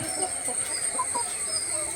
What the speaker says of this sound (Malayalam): എനിക്ക് ഇവിടെ 18 കോഴിയുണ്ട്.